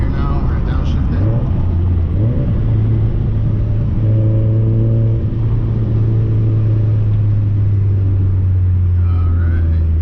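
Turbocharged VW GTI heard from inside the car at night while downshifting for a highway on-ramp: engine drone rises in steps, then holds a strong steady rumble, with a voice speaking over it early on.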